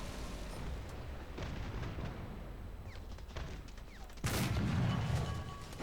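A tank cannon fires in War Thunder, a deep heavy boom that bursts out near the end over a continuous rumbling battle background.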